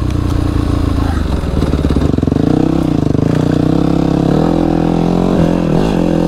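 Enduro motorcycle engine running steadily close by, a loud continuous rattling drone with slight shifts in pitch as it idles and revs.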